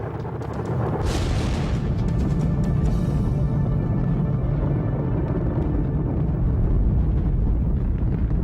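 Space shuttle solid rocket boosters firing at liftoff make a loud, unbroken, crackling roar with deep rumble that swells in after a brief quieter moment and holds steady.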